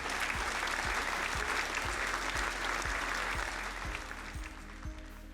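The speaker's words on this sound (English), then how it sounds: "Please recognize them and give them a round of applause." A crowd applauding at a regional chamber awards ceremony, broad sustained clapping that fades slightly toward the end, with a steady low pulsing beat underneath.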